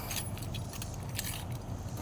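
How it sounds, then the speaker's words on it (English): Keys jangle continuously while a door is locked after refueling a school bus, the metallic clinking steady and close throughout. "And we gotta lock the door."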